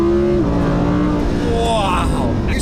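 A supercar in sport mode selected on the Manettino, its engine revving hard with a rising pitch sweep, loud and close, with a voice talking over it.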